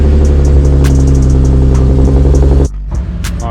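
A Nissan Z's engine idles steadily while warming up, a loud, close, even rumble with a constant low hum that drops in level for the last second.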